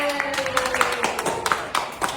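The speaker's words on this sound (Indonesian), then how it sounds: "Oke, tepuk tangan." Scattered hand claps from a small group during a group counseling session, a handful of uneven claps close by over steady background voices.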